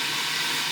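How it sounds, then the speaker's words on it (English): A boiling kettle fills the room with a steady, loud, broadband hiss and rush, continuous and unbroken, with no talking. "You have to excuse the noise of the kettle in the background."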